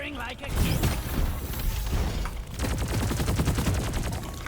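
Stubby SMG gunfire in the video game Deep Rock Galactic: a dense, rapid, continuous stream of shots, loud and close, with a brief dip before firing resumes.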